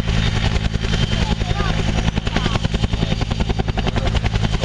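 An Agusta Bell AB212 helicopter hovers close overhead during a rescue demonstration at an airshow in Malta, its loud rotor and turbine roar steady and continuous, with the rhythmic blade chop running throughout.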